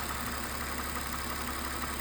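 A 2006 Mercedes SLK280 engine idles steadily, a constant close hum and rumble with no changes in speed.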